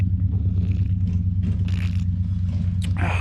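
A 1975 Ford Highboy truck with a 390 engine rumbles low and steady nearby, a deep idling drone with faint scrapes and rattles on top.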